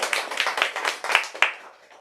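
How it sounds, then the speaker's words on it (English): A small audience at a bookstore reading gives a short round of applause, a few distinct sharp claps standing out from the patter before it thins away over about two seconds. "Why don't we give her a round of applause?"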